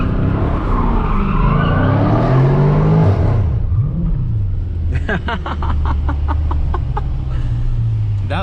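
A 2021 Dodge Challenger R/T Scat Pack spinning its tires while drifting: loud, wavering tire squeal over a heavy engine roar, then a rapid series of sharp revving pulses up close.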